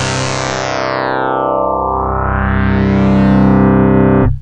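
Single-partial FM patch from the Arturia Synclavier V software synth: one loud sustained tone rich in harmonics, its bright upper range sweeping down then back up like a filter or modulation sweep, ending abruptly after about four seconds.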